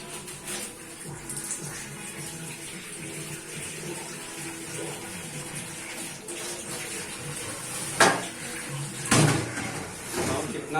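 Tap water runs steadily over raw chicken in a strainer in a home kitchen, a continuous splashing wash with a few louder splashes and clatters near the end.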